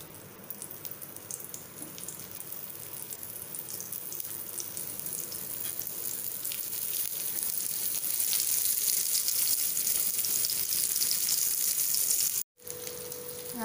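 Onion fritters sizzle and crackle steadily in hot oil, a continuous close frying hiss that grows a little brighter, with a brief break near the end and no talking.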